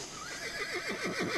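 A single horse whinnies up close, a rising call breaking into quick wavering trills that grow stronger toward the end.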